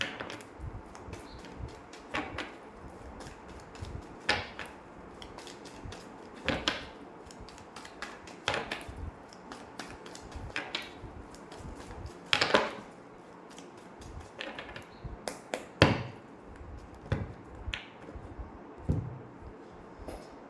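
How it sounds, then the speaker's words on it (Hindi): Tarot cards drawn from a deck during a reading, heard as sparse soft slides and snaps of card stock, several separate brief crisp transients spaced irregularly over a quiet room background with no talking. "मैं और कार्ड्स निकाल लूँ।"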